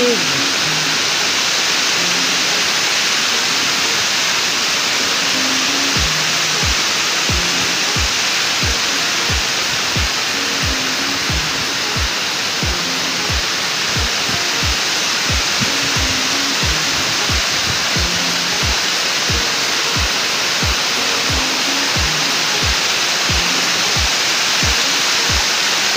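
Aruyan Falls, a waterfall at a penal farm in Sablayan, Occidental Mindoro, roars in a constant, dense, loud wash of falling water with no letup, alongside faint low thumps from nearby activity.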